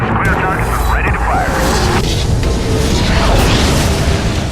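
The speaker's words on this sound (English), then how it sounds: "by using the artillery strike ability of the commander" Artillery strike explosions destroying a base in the video game Prototype, a dense continuous roar of blasts and rumble at high volume, with a voice talking over the din.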